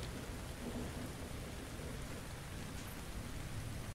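Rain in a video game falls as a dense, even hiss of drops with a low rumble underneath, steady and continuous throughout.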